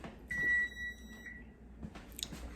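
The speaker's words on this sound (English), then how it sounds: "Timer's about to go off." In a home kitchen while cookies come out of the oven, a kitchen timer gives one sustained, high electronic beep lasting about a second, followed by faint clatter and quiet room noise.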